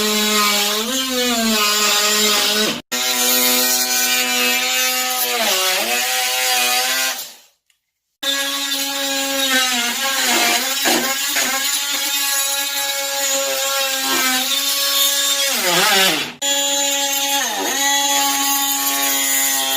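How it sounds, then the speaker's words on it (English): An oscillating multi-tool buzzes loud and close while stripping hard caulking in a bathroom, its pitch wavering as it bites, with two short cutoffs and one pause before it starts up again. "just using the multi-tool, just how easy and beneficial it is in removing the caulking."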